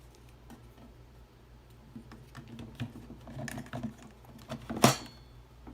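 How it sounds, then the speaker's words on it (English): Plastic camera tray of a Birdfy Metal 4K bird feeder sliding in and out, heard as faint scattered ticks and light scrapes that end in one sharp plastic click, quiet and up close. "you simply have this plastic piece that slides out. We're going to sit our camera on it."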